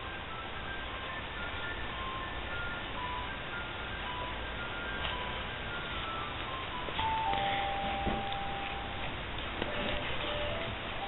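An ice cream truck's tinkling melody chimes along as it passes by, fairly faint and distant, its repeated notes ringing over a steady background hum.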